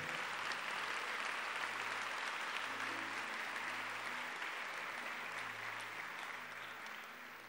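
Congregation applauding at a church congress, a steady wash of clapping that stays fairly even and fades slightly toward the end, with faint musical tones underneath.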